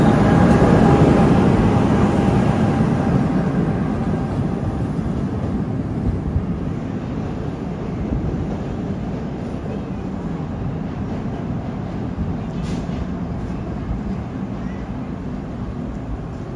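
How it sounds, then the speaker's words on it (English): An NJ Transit train bound for Hoboken rumbles past Summit station, loudest at first and then fading into a long, steady roar of rolling wheels. "Oh, there goes the Hoboken train."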